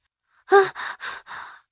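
Someone pants hard, out of breath after running: one sharp gasping intake followed by three heavy, evenly spaced breaths, close and clear, with no other sound.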